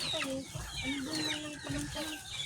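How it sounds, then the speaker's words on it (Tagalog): Many native chickens clucking on a mountainside in Montalban, a busy overlapping chorus of close, repeated clucks with little talk. "Ang daming manok oh."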